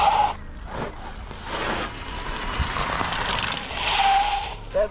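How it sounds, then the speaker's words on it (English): Sur Ron electric dirt bike skidding as its TRP DH-R EVO brakes lock up, a rough scraping rush of tire on dirt with brief squeals at the start and end, fairly close. "That's the first time I've really been able to lock this bike up."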